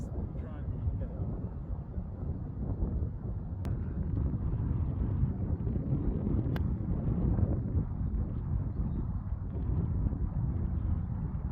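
Wind gusting across an open golf course, a steady broadband rush roaring close against the microphone for the whole stretch, rising slightly partway through.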